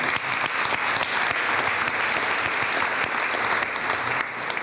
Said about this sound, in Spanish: Fuerte aplauso para mí.